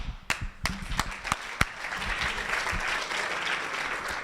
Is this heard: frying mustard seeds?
no